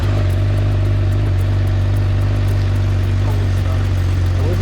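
A 2021 Honda CBR1000RR with its stock factory exhaust runs at a steady, loud, deep drone that holds an even level throughout, with no distinct rev spikes.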